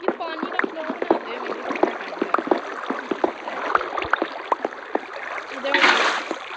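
Flowing water placed in Minecraft while building an exp farm, a steady rushing wash with scattered splashy clicks and a brighter surge near the end, under someone talking.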